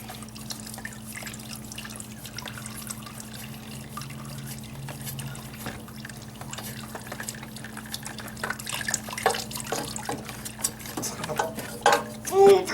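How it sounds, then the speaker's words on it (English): Engine oil draining from a Katana motorcycle with the filter and drain plug removed, a faint steady trickle and drip that grows busier toward the end, close by. "so now you've got the oil filter and you got your plug out and you're letting it drain"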